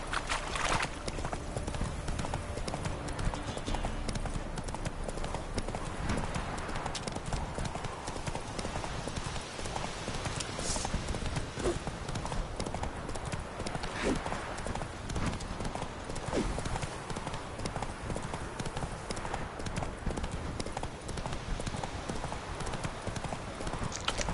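Steady clip-clop of horse hooves at a trot or canter in The Witcher 3, continuous and close for the whole stretch, with brief voice lines and game ambience layered over it.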